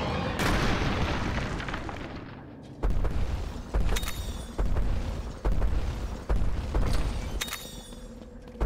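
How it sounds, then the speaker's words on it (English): Sonic bombs in Monster Hunter Stories 2 go off as a run of loud, sharp booms, about five abrupt bursts spaced roughly a second apart, each with a ringing high tail over a rumbling background. "Sonic bombs are pretty useful in this area."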